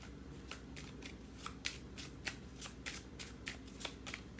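A Lenormand deck being shuffled by hand in a card-reading session, with rapid riffling bursts repeating at a steady rhythm, close and clear over a low background hum.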